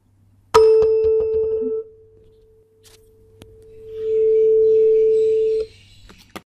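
A tuning fork rings out as a pure, sustained tone after a sharp strike, fading, then swelling again as a second fork resonates near the microphone in a physics classroom, with a few clicks and knocks around it.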